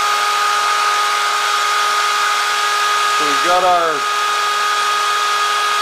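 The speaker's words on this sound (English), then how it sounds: "let's get the buffing wheel out and let's shine that blade" A handheld drill spins a buffing wheel polishing a 144-layer Damascus steel knife blade, giving a loud, steady whining drone throughout while someone speaks briefly over it.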